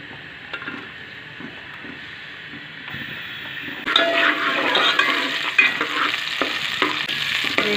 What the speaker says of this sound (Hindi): अब इसके अंदर मैं प्याज फ्राई करूँगी लाइट गोल्डन ब्राउन